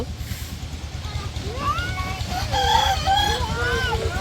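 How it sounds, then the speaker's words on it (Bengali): A farm chicken squawks in agitated, rising bursts while being caught, over a steady low mechanical hum. "মুরগিটা ধরো তো আনাস"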